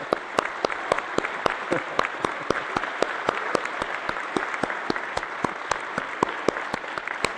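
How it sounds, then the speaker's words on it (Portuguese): An audience at a church service in Balneário Camboriú applauds a newly married couple, a loud, close, steady round of clapping with many sharp individual claps and no voices standing out. "E uma salva de palmas ao casal."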